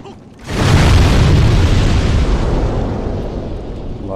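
Explosive barrels blow up in the video game Demon's Souls, a sudden loud blast after a brief quiet lead-in, followed by a deep rumbling roar that slowly fades over several seconds.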